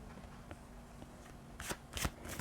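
Two decks of fortune-telling cards are shuffled together, with soft quiet riffling that builds into several sharper, louder card snaps toward the end.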